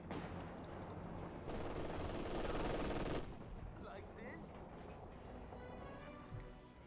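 Sustained burst of MG42 machine-gun fire in a Company of Heroes 2 battle, a dense loud rattle in the middle of the clip set against continuous battle noise, with scattered shots and lighter combat sounds around it.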